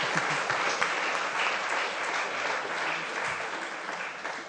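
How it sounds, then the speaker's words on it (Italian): Applause from a small audience at a talk on mountain sports law, steady clapping that holds for a few seconds and then thins out, with no talking. "Ho fatto io l'applauso a Umberto Izzo"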